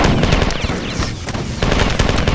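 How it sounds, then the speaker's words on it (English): An assault rifle in Marathon 2 Durandal fires loud, rapid automatic bursts, with a short lull in the middle before the shooting resumes. "I guess I'll use the assault rifle for a moment"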